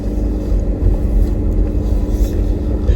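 A car drives through heavy downtown traffic, giving a steady, loud low rumble of engine and road noise from inside the cabin with no pauses.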